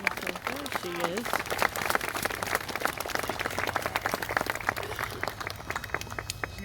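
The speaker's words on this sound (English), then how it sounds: "Let's give her a round of applause." A crowd at a Wreaths Across America Day gathering gives a round of applause, with scattered clapping mixed with nearby talk and some lower-pitched sounds in the background.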